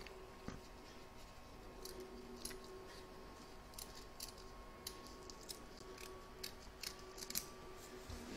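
Scissors snip excess fabric from an in-the-hoop embroidered pouch, a series of crisp, close, irregularly spaced cuts over quiet background hum.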